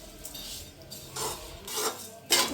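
A spoon scrapes and stirs a poha snack mixture around a pan in several rough, rasping strokes that grow louder, with the last stroke the sharpest. No one speaks.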